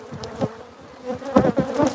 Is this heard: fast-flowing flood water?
no